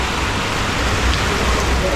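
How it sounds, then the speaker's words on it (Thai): Heavy rain falling during the rainy season in Laos near the Mekong, a dense, steady hiss of rain with no breaks and no voices. "บัดนี้ฝนตกฮะ"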